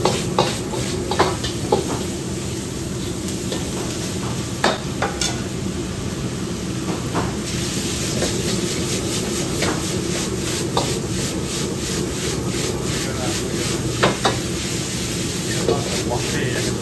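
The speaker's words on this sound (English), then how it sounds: "Add the carrots and the bean sprouts last, and cook them up." A professional Chinese chef stir-fries carrots and bean sprouts in a wok in a noodle house kitchen, with continuous loud sizzling and rhythmic scraping and tossing of the spatula against the wok.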